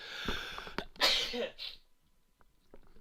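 A person sneezes once, sharp and close, after a few quieter breathy sounds and short vocal noises. Faint background sound continues after the sneeze.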